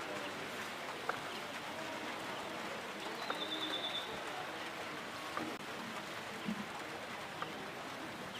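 Steady rain falling outdoors at a sheepdog trial, a continuous soft wash of drops on surfaces with occasional faint bird calls in the background.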